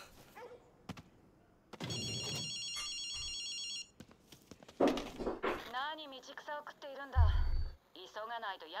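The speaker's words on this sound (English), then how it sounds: "There's a phone ringing." Ringing phone in the video game Ghostwire: Tokyo, a bright repeating electronic bell tone lasting about two seconds amid game sounds, with voices speaking around it.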